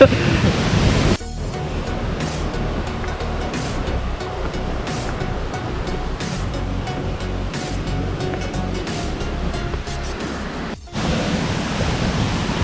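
Water rushes and roars steadily at Yung Thong waterfall in Na Yung–Nam Som National Park, a dense broadband wash that fills the whole stretch with brief louder surges at the start and end.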